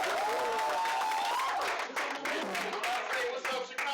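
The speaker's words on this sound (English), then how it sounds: "I need everybody to give a great big round of applause for my brother in Christ, my brother in life" Open mic night crowd applauding and cheering for a performer, with clapping mixed under a loud voice and music, uneven and lively.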